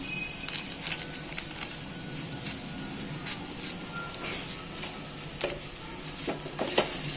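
Pasta with a packet of pasta masala is stirred in a frying pan, a faint steady sizzle broken by scattered clicks and scrapes of the spoon against the pan.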